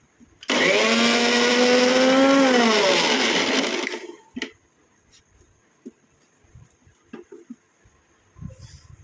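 A mixer grinder runs loudly for about four seconds, grinding a black cumin hair dye mixture, then cuts off, followed by scattered small clicks and knocks in a quiet room.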